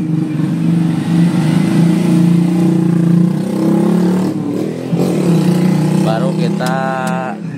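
A Suzuki APV minivan engine, just repaired after a blown starter fuse, runs with a loud steady mid-pitched drone throughout, a brief dip partway, then a rising whine near the end as it revs.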